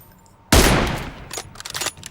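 A loud, close gunshot from an M24 sniper rifle in PUBG Mobile, played solo against a squad, cracks out sharply and then trails into a decaying echo mixed with fainter distant shots.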